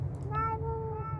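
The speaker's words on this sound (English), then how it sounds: "I'm pretty sure it's the dev's cat making that noise though." A cat meows once, a short rising and falling mew over a steady low hum from game audio, with a brief faint chirp just before it.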